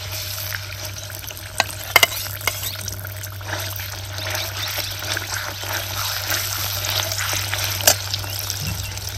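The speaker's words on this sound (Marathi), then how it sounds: "आता ह्याच्यामध्ये आपल्याला घालायचा आहे हा आपण वाटलेला मसाला." Ground wet masala paste dropped into hot oil for Satara-style misal, giving a steady close sizzle with crackling spits and a few sharp pops throughout, and a low hum underneath.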